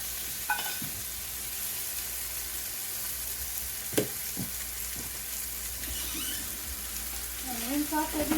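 Raw pork frying in a pan, a soft continuous sizzle with a few sharp clatters of utensils and a faint squeal near the end, quiet and close.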